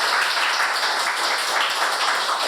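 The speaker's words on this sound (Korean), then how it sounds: "큰 박수로 환영해 주세요" Audience applause welcoming two poets at a literary radio event, a dense, steady wash of clapping from many hands that holds evenly for the whole stretch.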